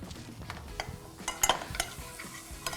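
Grated garlic stirred and sautéed in a hot pan, giving soft sizzling with a few utensil scrapes and clicks scattered through the moment, no talking.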